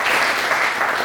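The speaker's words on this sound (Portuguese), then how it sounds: "Salve de palmas" Applause from an event audience at a panel on open banking and bank–fintech relations, a dense, steady wash of clapping filling the whole moment without any talk.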